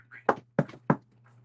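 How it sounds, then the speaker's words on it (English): Knuckles rap on a door three times in quick succession, crisp and close, with a faint voice-like tone before the knocks and a low steady hum underneath. "You're gonna hear a rap on the door, Gearfried."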